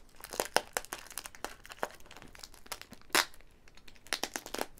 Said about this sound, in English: there's so much tape around this